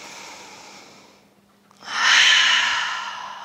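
A long, soft breath drawn in, a brief pause, then a louder, fuller exhale pushed out through the mouth during a morning yoga routine, close and breathy.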